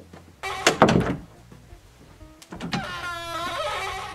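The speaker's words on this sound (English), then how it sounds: "This door is so squeaky." A door creaks open with a drawn-out, squeaky whine, preceded by a few handling thumps and rattles, close by and heard alone.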